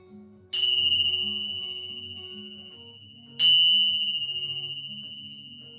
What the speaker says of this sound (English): Letting your mind, your body, and your soul absorb the vibrations of the bells